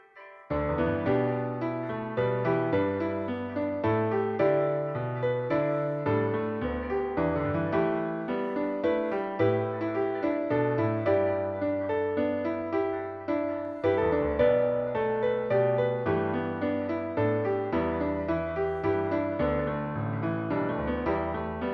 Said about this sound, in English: This is an arrangement of Amazing Grace using the pentatonic scale